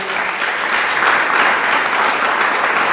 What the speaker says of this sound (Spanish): Dele palmas al Cristo de la gloria